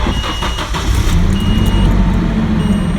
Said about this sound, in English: we'll go ahead and run the engine just to get the fuel pressure out till it stalls